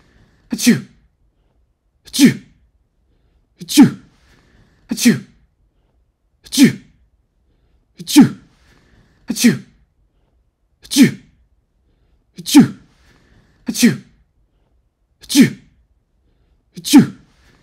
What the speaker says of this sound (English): Achoo! Achoo! Achoo! Achoo! Achoo! Achoo!